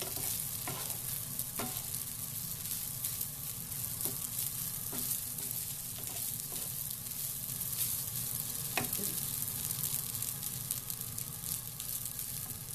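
Salmon fried rice stir-frying in a hot pan gives a steady, close sizzle throughout, broken by occasional scrapes and knocks of the spatula as the rice is tossed.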